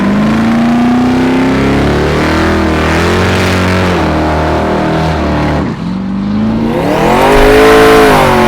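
Blown Hemi drag cars drive close by, their engines loud with rising and falling harmonic revs, one car dropping off before another roars up strongly.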